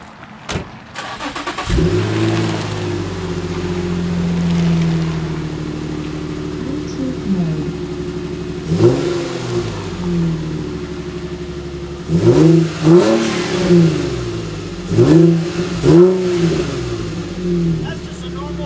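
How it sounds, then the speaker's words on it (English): Infiniti G35 with a Borla exhaust starts and idles, then revs in several sharp throttle blips, loud and close, with people talking nearby. "Just rev the car up."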